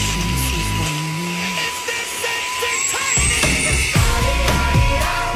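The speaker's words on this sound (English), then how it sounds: "It effortlessly sucks at all these small stones." A portable car vacuum cleaner whines steadily up close as it sucks up small stones, with sharp rattling clicks of the grit being pulled in, mostly alone with little talk.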